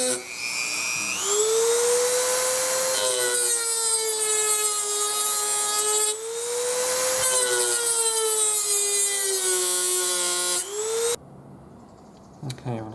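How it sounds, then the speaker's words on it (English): High-pitched whine of a rotary tool with a cut-off wheel grinding along a Bonneville motorcycle oil tube, a loud sustained tone that rises and dips with load, pausing briefly mid-cut, before winding down at the end. "a cut-off wheel in it, and I'm going to see if I can cut this thing down the length of it"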